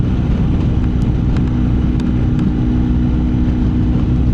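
A 2025 BMW R 1300 GS Adventure motorcycle cruising on the Thruway, a loud steady engine drone with heavy wind rush and road noise, no speech.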